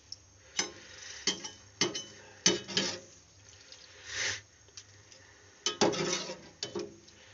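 Milk is stirred into vermicelli for sheer korma, with a spoon scraping and clinking against the pot in irregular strokes and a brief sloshing swirl midway, heard close and alone.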